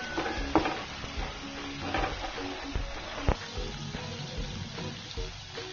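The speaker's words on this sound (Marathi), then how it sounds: "आलं लसूण मिरचीचा उग्रवास कमी होईपर्यंत तेलात चांगलं परतून घ्यायचं" Ginger, garlic, green chilli and asafoetida sautéing in oil in a pan, a steady low sizzle with occasional stirring scrapes and clinks of a spoon against the vessel.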